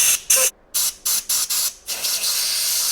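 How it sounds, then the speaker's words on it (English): Compressed air blasts Loctite residue off a bracket part during a passenger armrest install on a Can-Am Spyder F3. Several short, loud hissing bursts come close together, then settle into one continuous blow. "like this compressed air, but try to get rid of as much as possible Loctite"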